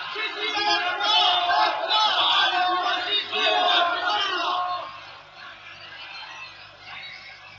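Angry crowd in a Passion play shouting and clamouring together, a dense mass of raised voices that swells loudly for several seconds and then thins to a quieter murmur.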